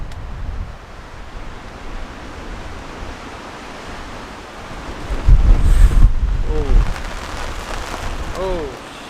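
Strong wind gusts roar over a campsite during a rain storm, a broad steady rush that swells louder midway; faint voices come through in the background.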